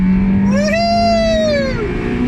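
Honda Civic race car, stripped to about 700 kilos, accelerating hard nearby, engine note climbing and holding steady over a couple of seconds with a strong continuous drone and no talk.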